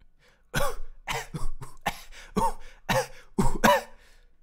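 A man coughs repeatedly in a run of about seven harsh, separate bursts with short gaps between them, close to the mic and fairly loud.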